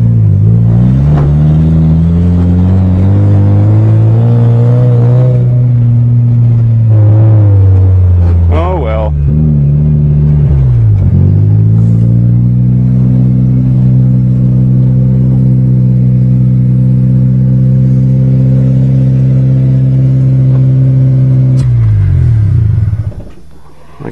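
A loud, close engine of an old Toyota GTS stuck in first gear drones and revs, its pitch rising and falling repeatedly, rough and strained throughout.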